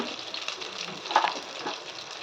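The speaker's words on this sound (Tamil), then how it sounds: "நல்லா வதக்கிடுங்க." Onions and green chillies sauté in a pan for channa biryani, giving a soft, steady sizzle with faint stirring scrapes close by.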